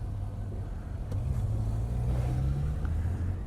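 A 2018 Suzuki GSX-S750 ABS motorcycle engine hums at a low, steady pitch, then swells as the throttle opens before easing back, heard close and fairly quiet with no talking.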